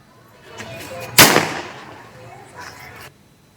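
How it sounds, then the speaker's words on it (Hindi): Celebratory gunfire at Diwali in Radhanagar, Fatehpur: one loud sharp report that rings out and decays, with fainter crackling pops before it and some later. "बताया जा रहा है दिवाली के मौके पर ये फायरिंग का वीडियो सामने आया है।"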